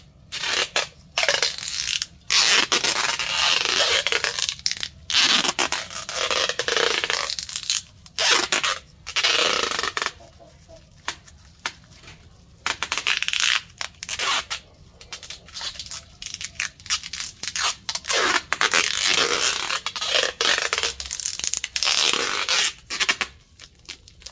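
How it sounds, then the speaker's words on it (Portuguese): Tape being wrapped and pulled tight around a lemon tree branch for air layering, a run of dense crinkling, tearing and rubbing noises with brief pauses, close and fairly loud, no talk. "Apertando com fita vai segurar a umidade."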